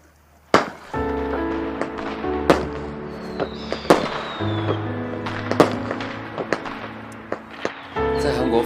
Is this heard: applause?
no